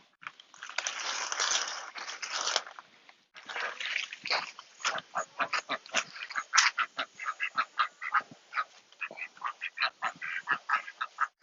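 Backyard chickens squawk and cluck in a rapid run of short, loud, nasal calls, after a couple of seconds of rougher noisy bursts.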